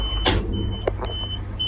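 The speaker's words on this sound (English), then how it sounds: "There we go, bed's coming down." Hydraulic dump bed of a 1984 GMC bobtail dump truck lowering, a steady mechanical hum with a thin whine running throughout, broken by a few short clunks and knocks near the truck.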